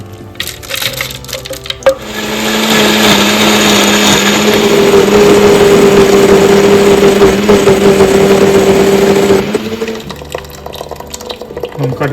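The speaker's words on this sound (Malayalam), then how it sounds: "നമുക്കിനി അത് ബ്ലെൻഡറിലേക്ക് മാറ്റാം കേട്ടോ." An electric blender grinds soaked lentils and poha into dosa batter, a loud continuous whirring roar for about seven seconds with a steady hum. Clattering handling noises come before the grinding and after it stops.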